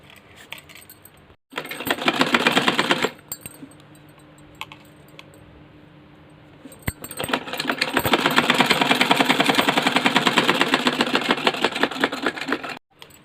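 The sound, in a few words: sewing machine stitching a petticoat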